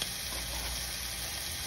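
Scallops fry in a pan with a loud, close, continuous sizzle, a steady hiss of hot fat that holds level throughout the short stretch, with no voices.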